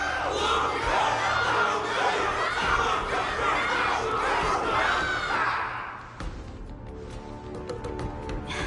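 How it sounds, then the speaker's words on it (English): Large crowd cheering and roaring for the fighter Luka after a battle in Honkai Star Rail, a dense, loud, sustained wall of voices that thins out toward the end. "Everyone's cheering for you, Luca!"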